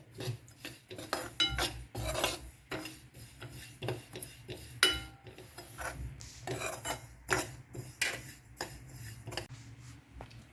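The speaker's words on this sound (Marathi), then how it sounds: "हे आता आपण तीळ पण भाजून घेऊया" Sesame seeds dry-roasting in a pan for tambittu laddus, a steady run of dry scraping and raspy stirring strokes with clicking metal touches, close and fairly quiet.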